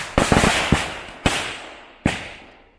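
Mortar fireworks go off at a wedding celebration in Sri Lanka: a rapid cluster of sharp, loud bangs followed by two more isolated blasts, each trailing off into a short rumbling echo.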